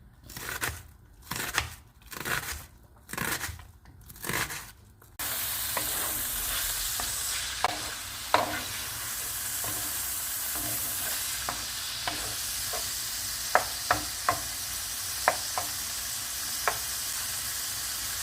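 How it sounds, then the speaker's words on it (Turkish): Lamb pieces sauté in their own fat and olive oil in a pan for okra stew, a steady loud sizzle with sharp pops and crackles, preceded by rhythmic rustling scrapes of stirring. "Etimizi sote yapıyoruz bu şekilde."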